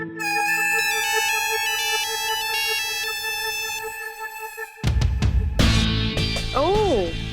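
A bright electronic ringtone plays a repeating melodic pattern for several seconds, then cuts off into clattering noise and a brief rising-falling tone.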